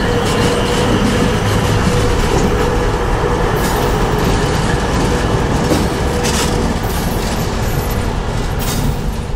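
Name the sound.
locomotives running around hopper cars on the main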